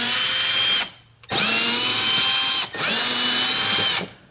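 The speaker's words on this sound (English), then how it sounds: "I want to show you that you can fit an electric screwdriver in here" An electric screwdriver drives screws into a Volvo S90/V90 mud flap: two long, loud whirring runs of a few seconds each, with a short pause between, close up and alone.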